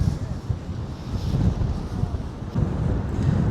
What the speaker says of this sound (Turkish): Çünkü acayip bir rüzgar var